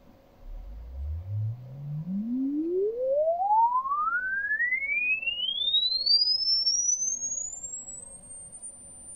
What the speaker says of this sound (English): Let's test the range with an online tone generator and the input.